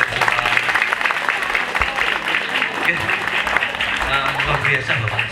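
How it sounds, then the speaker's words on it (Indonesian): Dense, continuous clapping from a large group of junior high students at a school road-safety assembly, loud and steady for several seconds with a voice faintly underneath. "tepuk tangan buat kalian"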